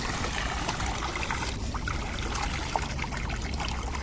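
Water gushes steadily under pressure from a pipe in a homemade setup rigged with a Hero Honda CD 100 motorcycle, a continuous close splashing flow without breaks.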